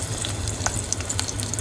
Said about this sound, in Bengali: পেঁয়াজ কুচিগুলি ভেজে নিব।